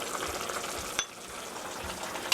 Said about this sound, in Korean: 살살 저어주시고요.